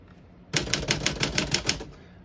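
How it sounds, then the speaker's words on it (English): A 1950 Smith-Corona Sterling portable typewriter types a quick run of about ten sharp, evenly spaced key strikes, loud and close after a brief quiet start. "As you can see, all the keys type perfectly and none of them stick."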